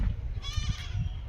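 A goat at a goat farm in Ghatail, Tangail gives a single short, close bleat over low background rumble.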